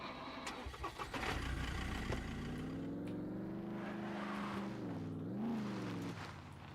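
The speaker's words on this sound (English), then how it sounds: "I'll leave the engine idling." Car engine in the video game SCUM cranks over and catches, then settles into a steady, close mid-pitched idle with a rising rev near the end, heard alone.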